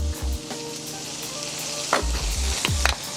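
Burger buns toasting face-down in mayo on a hot griddle, a steady crackling sizzle throughout with a few sharper pops and scrapes near the end.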